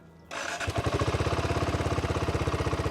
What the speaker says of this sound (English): Single cylinder motorcycle, so typical single cylinder exhaust note. This is how it sounds at idle.